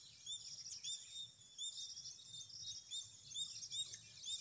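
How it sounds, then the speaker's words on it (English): Sparrows and other birds call on a farm, a steady, faint, high chirping and twittering chorus heard from a distance, continuous and unbroken throughout with a low murmur of background noise underneath. "So squirrels are shouting, other sparrows, tweeties, they are also making noise, peacocks are also shouting."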